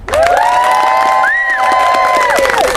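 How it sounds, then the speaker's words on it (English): A crowd at Epcot's International Food and Wine Festival at Walt Disney World whoops and cheers loudly and steadily, with rising and falling shouts and excited yells filling the whole moment, clapping hard to pick out beneath the voices. "I want to hear it from everybody in the crowd. Let's clap it up."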